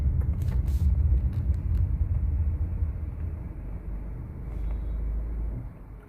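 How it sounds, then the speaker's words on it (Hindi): Suzuki S-Cross automatic hybrid running on CNG, its engine giving a low steady idle rumble as the car comes to a halt, then the auto start-stop cuts the engine out and the rumble dies away at the very end. "तो आप देख सकते हैं गाड़ी हमारी ऑटोमेटिकली ऑफ हो गई है।"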